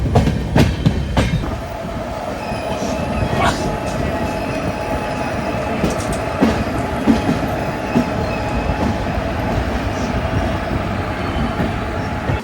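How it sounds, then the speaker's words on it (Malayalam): A train descends slowly through the Bhor Ghat after Lonavala with a steady rumble, wheels clacking and occasional squeals and squeaks rising over the continuous noise. "ആ ഇറക്കത്തിൽ ട്രെയിൻ വളരെ പയ്യാണ് പോകുന്നത്"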